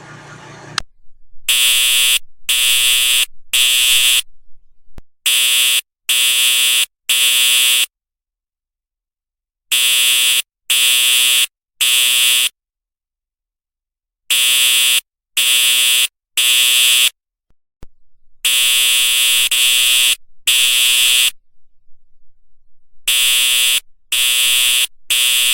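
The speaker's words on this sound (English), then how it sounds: "as soon as the fire alarm goes off" A fire alarm rings loudly in repeated short bursts, three or four quick blasts at a time separated by pauses, harsh and buzzing, with nothing else heard.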